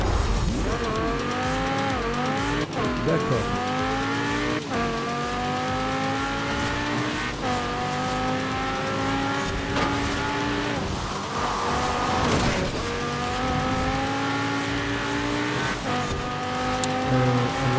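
A Lamborghini Huracan races at night in Forza Horizon 4. The loud, continuous engine climbs through repeated rising rev sweeps between gear shifts, with occasional tire squeal and one brief spoken word.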